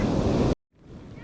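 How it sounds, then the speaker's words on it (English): Huge ocean waves crash on a beach during a gold search, a loud, roaring wash close by that cuts off abruptly and then returns more faintly. "Huge waves."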